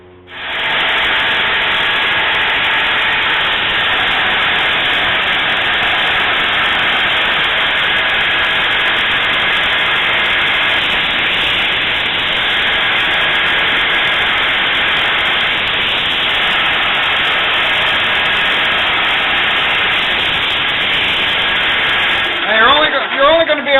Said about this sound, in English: So I'm going to touch it up as much as I can on the this wide sander here.